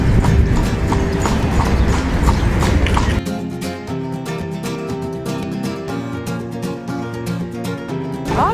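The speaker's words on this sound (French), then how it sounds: "Ah, un cheval." A horse clip-clops along a street in Seville, its hooves striking in a steady, brisk rhythm, loud and close, over a busy outdoor hum.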